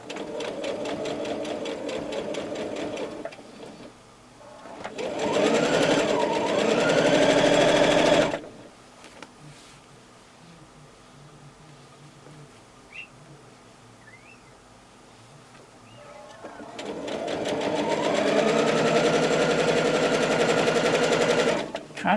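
A sewing machine stitches single fold binding in two loud, steady bursts of rapid running, with a quiet pause of several seconds between them.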